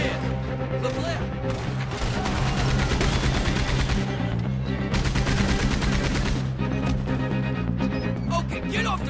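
Mounted gun firing during a wagon robbery in the video game Red Dead Redemption 2, loud sustained bursts of rapid gunfire with crashes and shouting voices in a busy, dense mix.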